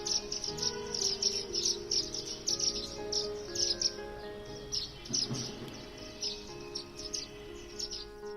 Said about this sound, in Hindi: यहाँ अब 40 से ज्यादा नस्लों की चिड़ियों का बसेरा है।